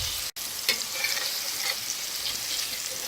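Meatballs frying in a pan, a steady close sizzle and crackle of oil holding evenly throughout, with a faint clink near the start.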